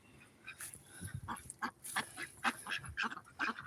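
A group of ducks quacks and honks in a busy, overlapping chorus, close by, with calls coming rapidly one after another over a faint outdoor background.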